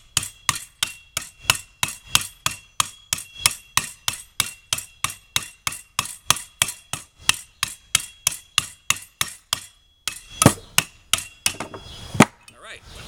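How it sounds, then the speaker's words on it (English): A bolt comes off the front end of a Hayward Super Pump motor under a long run of evenly spaced sharp metallic strikes. After a short pause a few louder, irregular knocks and clanks follow. "Take off this front end bolt."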